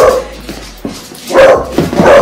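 Dog barks a few times at close range, short sharp bursts spaced apart, with room noise and movement between them, as people arrive indoors somewhere.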